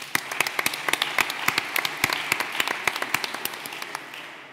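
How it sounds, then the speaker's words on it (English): Conference audience applauding at a Lisbon investment event, dense, loud clapping from many hands sustained throughout with crisp individual claps standing out. "So please, a round of applause."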